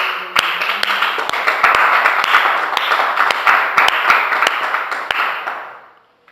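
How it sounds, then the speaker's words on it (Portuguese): A church congregation gives a round of applause for Jesus, a full wash of clapping with sharp individual claps standing out, building quickly and fading away near the end. "Vamos dar uma salva de palmas para Jesus"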